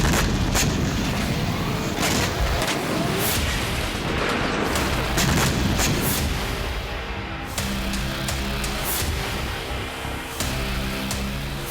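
Explosions from Israeli air strikes in Lebanon, a rapid series of heavy booms and sharp blasts over a rumbling roar, loud and close, with repeated impacts throughout and no speech.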